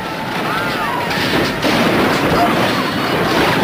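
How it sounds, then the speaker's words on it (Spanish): Dense battle gunfire from the Battle of Little Bighorn of 1876, a continuous loud roar of overlapping shots and booms, with a voice narrating over it. "en medio de un tiroteo atroz"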